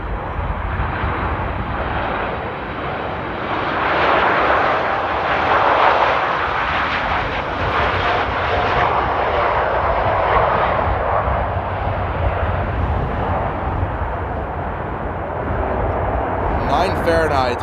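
A Ryanair airliner arrives at Amsterdam Airport on a windy day, its engine roar steady and broad throughout, loud and continuous with wind rumble beneath.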